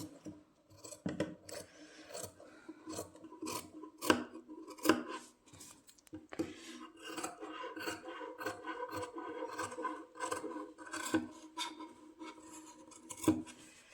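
Scissors cut through suit fabric in a string of quiet, close, uneven snips with short pauses between them, and no one speaks.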